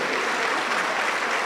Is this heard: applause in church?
yes